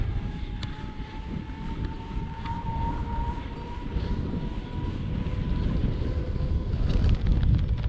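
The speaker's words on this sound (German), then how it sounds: "Windig und meine Jacke flappert die ganze Zeit so." Gusty wind roars over the microphone and flaps a cyclist's jacket during a bikepacking ride on the Berlin–Copenhagen cycle route, a steady loud rumble with a faint thin whistle running through it and no talking.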